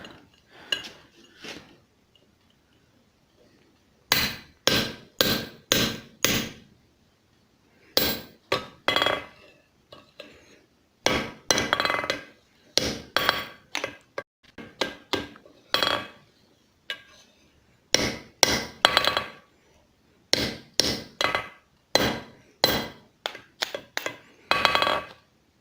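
Sharp metallic hammer strikes ring out in quick bursts separated by pauses as a railroad spike is forged over an anvil's hardy hole, close and loud with a bright clanging tone.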